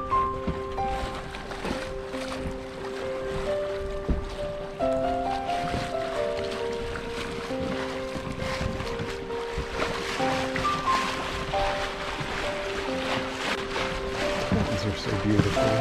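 A Catalina 30 sailboat self-steering on a fall sail on Lake Pend Oreille near Buttonhook Cove, giving a steady rush of wind and water around the hull while someone talks over it.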